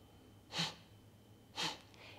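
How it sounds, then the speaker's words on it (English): Two slow, forceful breath-of-fire exhalations through the nose during a morning yoga practice, each a short, close, breathy whoosh about a second apart, with quiet in between. "I want you to do a very slow pumping of the breath."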